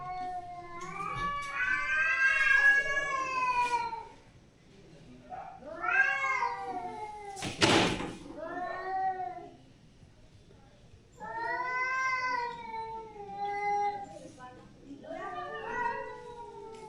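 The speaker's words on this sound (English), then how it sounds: "Yeah, cats." Cats meow and caterwaul in long, wavering, drawn-out yowls, several loud cries rising and falling in pitch with pauses between them and one sharp noisy burst in the middle.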